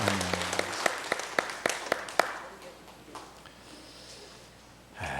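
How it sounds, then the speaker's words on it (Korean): A church congregation claps during a Korean worship service, a run of distinct, rhythmic claps at the start that fades into a faint murmur of voices and room noise. "영광의 박수 올리겠습니다"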